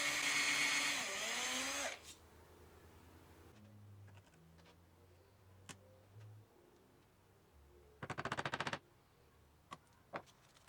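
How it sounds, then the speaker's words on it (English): A power drill bores locating-pin holes in a wooden guitar neck, with a loud close whirring burst at first, then quiet stretches broken by scattered ticks and a short rattling burst. "once the holes for the locating pins are drilled"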